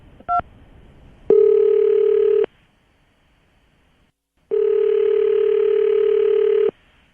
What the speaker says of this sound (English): we're about to call Mark and see if we can get him on the phone